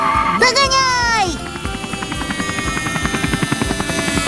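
A cartoon helicopter flies in a children's animated series. A swooping, voice-like tone at the start gives way to a steady, rhythmic rotor chop that grows louder and faster, close and prominent.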